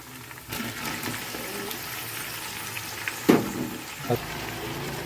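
Tomatoes sizzling in hot biryani masala for chicken biryani, a soft steady frying hiss with a couple of sharper stirring scrapes near the end, fairly quiet.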